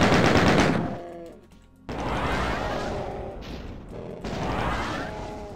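Rapid weapon fire in Doom 2, from a plasma gun and chain gun, comes as loud continuous bursts: a long volley, a brief lull near the second mark, then further sustained firing with ringing tonal sweeps, all without speech.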